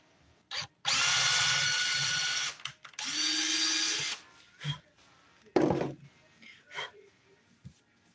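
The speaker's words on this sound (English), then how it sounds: "All I was doing was drilling a tiny little hole in this Dollar Tree stump stub" Close, loud whine of a power drill boring a tiny hole in a small Dollar Tree wooden craft stump, heard in two long bursts with a short pause between. Clicks and handling sounds follow, along with brief talking.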